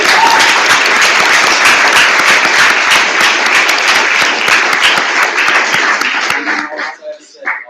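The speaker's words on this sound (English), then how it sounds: "After a round of applause for all the speakers once more" A debate audience breaks into loud, sustained applause for the speakers, dense clapping filling the room for several seconds before thinning out and fading at the end.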